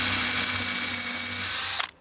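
A power drill bores into a sailboat in a short, close, whining burst with a pulsing rhythm, then spins down and stops abruptly, with no voices.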